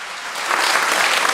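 A church congregation applauds together during a Sunday morning service to greet visiting members, the clapping swelling quickly and holding steady in a short, dense burst.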